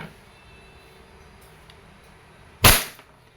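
A single sharp crack from a WE Airsoft Glock 34 Force Series gas pistol fired semi-automatic, one loud close shot standing out against quiet room tone.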